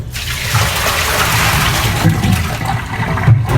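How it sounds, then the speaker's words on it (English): Sanitizer liquid from beer-brewing equipment is poured down a drain, a loud and steady splashing, gurgling rush of water that runs throughout with no talk. "The rest of this just goes right down the drain."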